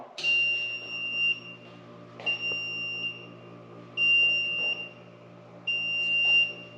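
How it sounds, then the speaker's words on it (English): Four high-pitched electronic beeps, each held for about a second, repeating at a steady interval with short pauses between them. "Is it supposed to beep?"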